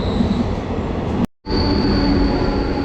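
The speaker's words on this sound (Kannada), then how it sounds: "ಟ್ರೈನ್ ಬಂತು ಗುರು" A train pulls into a station platform on the Bengaluru to Tumakuru line, giving a loud, steady rumble of wheels and carriages close by, broken once by a brief dropout.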